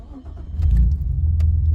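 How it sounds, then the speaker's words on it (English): A car engine turns over and settles into a low, steady idle right after ignition, close by, with no talk. "I have ignition, the car is now officially running."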